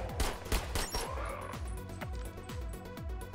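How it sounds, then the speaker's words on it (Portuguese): Rapid, heavy railgun blasts in the sci-fi game Sentry, a string of sharp, booming shots roughly every half second, each with a descending energy whine, loud and close. "essa railgun é muito absurda"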